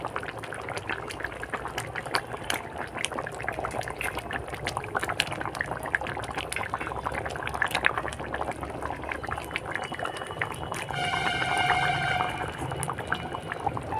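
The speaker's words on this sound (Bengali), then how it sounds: "বাদামটা দিয়ে এক মিনিট ফোটার পর ভেজে রাখা মাছগুলো দিয়ে দেবো" Fried rohu fish pieces go into a bubbling Bengali curry with ground peanuts, a steady close simmering hiss and bubble running throughout, with a brief brighter splash and clatter near the end.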